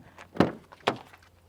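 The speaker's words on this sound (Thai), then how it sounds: "เปิดปิดประตูแบบนี้ไปเลยครับ" A car door is opened and shut twice, first testing a suction phone holder stuck to the door: two sharp, fairly close thuds with a short rattle between, otherwise quiet.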